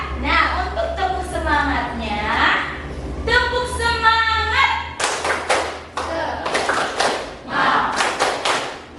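Children clap a rhythmic counting chant in a classroom, sharp bursts of claps in patterned groups interleaved with sung and chanted voices throughout.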